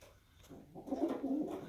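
Pigeons, including banded young birds of this year, coo softly in a low throaty burble, quiet at first and swelling into a steady, rolling coo through most of the stretch.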